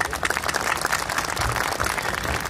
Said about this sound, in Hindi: एक दफ़ा ज़ोरदार तालियों में।